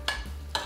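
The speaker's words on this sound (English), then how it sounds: "And you stir it up." Apricot jam, Russian dressing and soup mix being stirred together for Russian chicken, two short scraping strokes of a spoon against the bowl over a low steady hum, close and fairly quiet.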